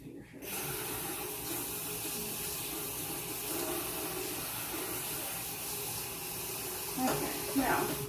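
Tap water runs steadily into a kitchen sink, rinsing chocolate zucchini loaf batter off a finger; a continuous close hiss fills the whole stretch, with a little handling noise near the end.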